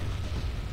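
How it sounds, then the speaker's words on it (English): Rocket artillery launching in the strategy game Wargame Red Dragon, a brief low rumbling burst of distant booms with no talk. "they're firing our rocket artillery"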